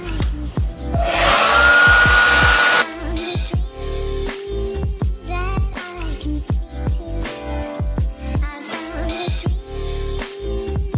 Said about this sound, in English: Get the handy dandy blow dryer, and I'm gonna blow dry this real quick.